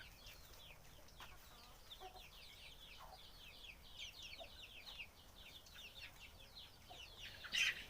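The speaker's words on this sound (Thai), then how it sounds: "ไก่" Farmyard chickens cluck in soft, scattered bursts at a distance outdoors, with a slightly louder cluck near the end.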